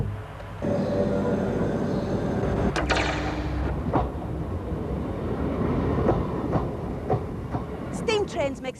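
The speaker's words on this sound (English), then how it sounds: "Steam trains make some great noises, don't they?" A steam train runs past with a loud, continuous rumble and rhythmic rail clatter, and sharp hissing bursts and clanks rise above it near the end.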